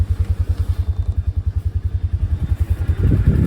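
A Polaris Ranger 570 side-by-side engine idling after starting, a close, rhythmic low thumping pulse that stays steady, then briefly rises in loudness near the end.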